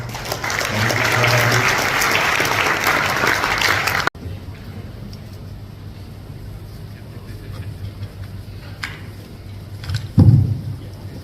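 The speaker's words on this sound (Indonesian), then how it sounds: "kita beri tepuk tangan dulu" A church congregation claps and applauds steadily for about four seconds, then the clapping cuts off, leaving quiet room noise and a brief low thump.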